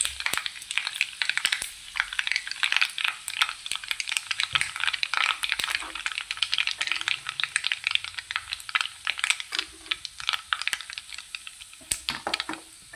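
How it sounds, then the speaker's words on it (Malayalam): Mustard and fenugreek seeds pop rapidly in hot coconut oil, making dense, irregular crackling bursts close up over a soft sizzle, thinning out toward the end. "നല്ലോണം എണ്ണ ചൂടായിട്ടുണ്ടായിരുന്നു, അതുകൊണ്ടാണത് പൊട്ടി വരുന്നത്."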